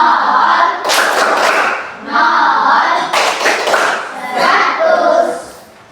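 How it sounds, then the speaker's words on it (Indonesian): A classroom of children performs a rhythmic class clap, loud bursts of patterned hand clapping mixed with voices chanting along, repeating in several short rounds before fading. "Satu tepuk 100 untuk Aprilia."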